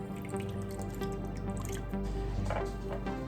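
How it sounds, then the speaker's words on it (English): Half a lemon squeezed by hand into melted garlic butter in a pan, giving wet squishing and a few dripping splashes over a steady background hiss. "now I'm going to squeeze half a lemon into there as well"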